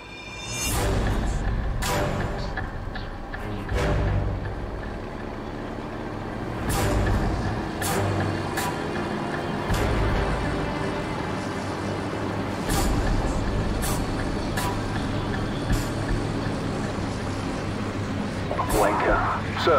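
Vehicle convoy rumbling past in Call of Duty 4: Modern Warfare, a steady low engine drone with heavy truck noise and air-brake hisses throughout, with people talking over it.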